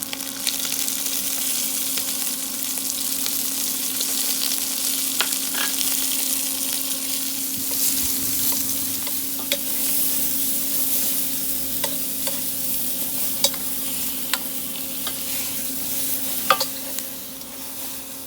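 Round courgettes pre-cooking in a pan with thyme and fleur de sel, a steady soft sizzle running throughout with occasional light clicks and taps of utensils, no voices.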